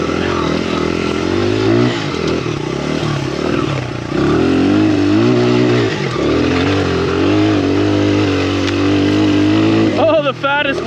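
A farm dirt bike on a mountaintop enduro ride keeps its engine droning loudly and steadily, rising and falling in pitch as the rider works the throttle. Brief revs come near the end, with wind noise and a rider's voice over the top.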